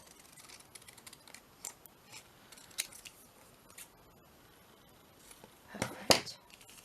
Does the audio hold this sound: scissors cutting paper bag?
yes